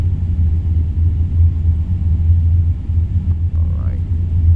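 Super late model race cars idling and rumbling in iRacing at USA Speedway, a steady low engine drone throughout with a brief voice heard over it near the end.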